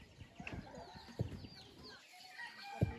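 A chicken clucking in a rural Lao village, a few short scattered clucks heard close by, with a couple of sharp low knocks and some quiet background noise.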